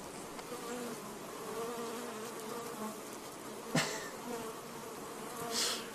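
A bee or wasp buzzes continuously nearby, its drone wavering in pitch and loudness as it moves about, with a couple of brief sharp knocks or rustles partway through.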